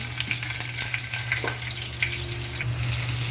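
Ginger and chili dropped into hot oil with black pepper in a pan for beef and broccoli in oyster sauce, a steady close sizzle with a low hum and light clinks, no talking.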